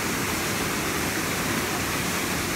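Batasan Falls, a small waterfall in Makilala, pours in a constant broadband rush, steady and moderately loud with no other sounds.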